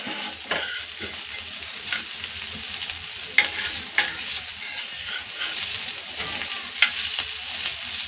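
Hara bhara kebabs fry in a pan with a steady, close sizzle, broken by occasional soft scrapes and taps as they are turned, with no talking.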